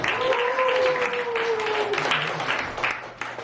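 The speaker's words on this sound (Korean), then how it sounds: "감사합니다. 박수." Audience applause at a church youth-group lecture on dating and marriage, a broad wash of clapping that fades gradually over a few seconds, with sustained tones and a voice running underneath.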